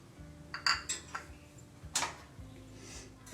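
Honey and powdered sugar being stirred in a bowl, giving light clinks and taps of a spoon against the dish, a few sharp close strikes spread irregularly over a quiet background.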